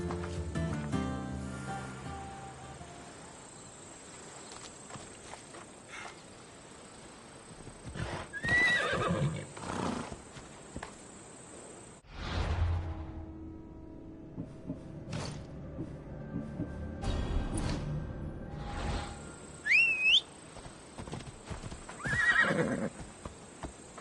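A horse in Assassin's Creed Odyssey neighs loudly several times while its hooves clip-clop in steady bursts, with game ambience between the calls.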